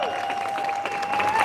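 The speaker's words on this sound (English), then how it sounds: "Another round of applause for Dean Royer" Applause at a press conference on a class action lawsuit, a short burst of clapping from a small crowd, moderately loud and steady, with a faint tone running through it.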